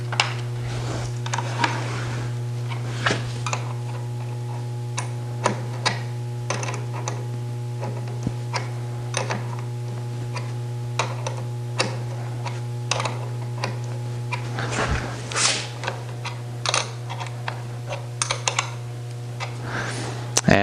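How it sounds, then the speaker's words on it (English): A 1/2 inch wrench tightening bolts on a battery in an external battery bank setup, giving scattered light metallic clicks and ticks over a steady low electrical hum, close and fairly quiet throughout. "we'll use the 1/2 inch wrench to tighten down the bolts on the battery"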